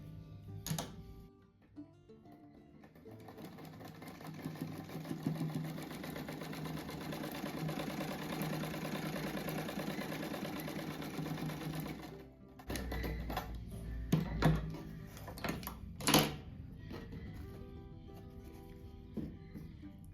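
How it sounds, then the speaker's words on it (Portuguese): Sewing machine stitching patchwork squares together in pairs, a steady mechanical chattering run of about ten seconds, followed by quieter handling clicks and a couple of sharp knocks, faint and close. "Vou costurar de 2 em 2 primeiro."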